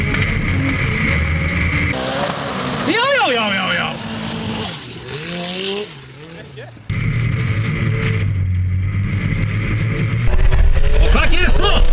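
A formula offroad buggy with a 2.4 litre Honda engine crosses water at an Icelandic competition in Hella, its engine revving up and down loudly with rising and falling pitch amid splashing, while a commentator talks over it.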